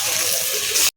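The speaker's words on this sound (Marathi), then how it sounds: "आले नळाला पाणी" Water gushing from a household tap, a brief steady hiss that cuts off abruptly after about a second.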